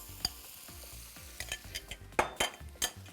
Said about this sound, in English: I'm just gonna add the beef to it now.